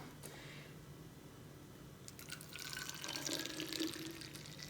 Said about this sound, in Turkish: Şöyle bir tane fıs fısın içerisine süzerek başlıyorum.